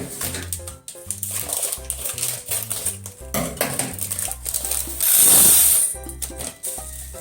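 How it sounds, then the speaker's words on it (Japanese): Adzuki beans rattled and stirred in a bowl with clinks and scraping as they are washed, then a short burst of running water from a tap, all close by. "小豆もこれ軽く洗いますね。"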